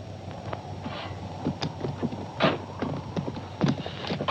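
Horses' hooves clip-clopping on open ground in a Western setting, a series of fairly faint, uneven hoofbeats with no talking.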